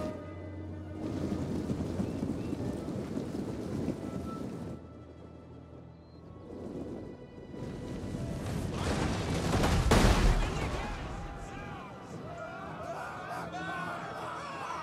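Flammable artillery rounds from Total War: Rome 2 slam into massed soldiers, producing a dense, continuous battle din of impacts and gunfire-like bursts with crowd noise, swelling to a loud peak midway before settling.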